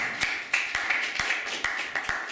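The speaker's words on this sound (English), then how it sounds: "round of applause" Scattered clapping from a small seminar group at a job interview coaching course in Manchester, welcoming a volunteer; a few distinct sharp claps over a steady indoor murmur, fairly close and brief.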